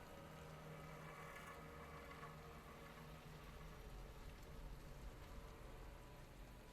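Steady, faint rain hiss from the survival horror game Resident Evil runs continuously at low level, an even wash with no distinct drops or other events.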